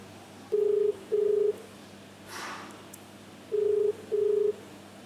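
A phone call being placed at home, with four short identical ringback tones in two pairs separated by a pause, clear and even over a quiet background hum.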